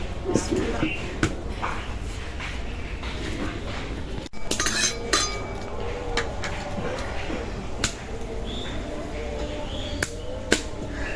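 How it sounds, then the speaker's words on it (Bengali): A kadai wok is set down on a home kitchen stove with a brief metallic clank, surrounded by the clink and clatter of utensils and dishes while a person talks throughout. "তরকারি রান্না করার জন্য কড়াই বসাই দিই"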